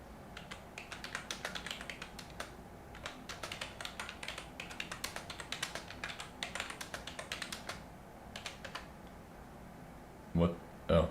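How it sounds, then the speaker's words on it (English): Rapid, close typing on a computer keyboard while setting up Arch Linux on a Raspberry Pi 5: dense bursts of crisp key clicks for about eight seconds, then a pause and two duller knocks. "I was typing way too fast, too."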